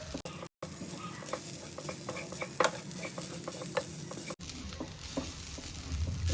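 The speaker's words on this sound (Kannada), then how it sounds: "ಸ್ಮೆಲ್ ಬರೋವರೆಗೂ ಕೊಬ್ಬರಿನ ಫ್ರೈ ಮಾಡ್ತಾ ಇರಬೇಕು" Grated coconut frying slowly on a low flame in a pan for a Konkani chicken curry, with a steady soft sizzle and repeated scraping stir strokes close by, briefly dropping out near the start.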